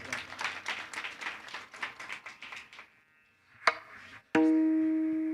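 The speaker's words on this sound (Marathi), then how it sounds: "तेवढ्या टाळीचा आवाज तुमचा काही जोरदार झाला" An audience at a Marathi kirtan claps in a quick, rhythmic burst of applause for about three seconds, which then stops and gives way to sustained musical tones and a sharp strike.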